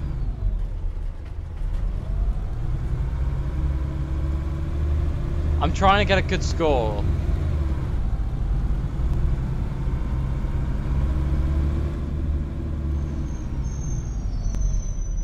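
A Voith-gearbox Alexander Dennis Trident double-decker bus engine in a driving simulator drones steadily throughout with a low rumble, a short burst of higher whine in the middle, while someone talks over it.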